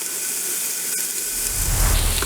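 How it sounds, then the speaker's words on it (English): Ground pork drops into a hot Ninja Foodi Deluxe pot with no added oil and sears with a steady, close hiss that swells with a low, rumbling sizzle toward the end. "It's searing."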